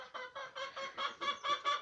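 Domestic hens in a farmyard pen alongside ducks, clucking close and fairly loud in a steady run of about nine short rhythmic calls, with no talk over them.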